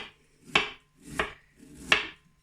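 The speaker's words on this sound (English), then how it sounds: "first of all I'll start by shredding this cabbage up" A knife slices a head of cabbage very finely for sauerkraut, three crisp separate cuts spaced about two-thirds of a second apart, close and clear with nothing else heard.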